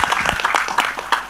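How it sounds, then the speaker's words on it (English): Clapping from the audience at a film trailer launch event, a short burst of close, uneven hand claps. "So this is that applause for them."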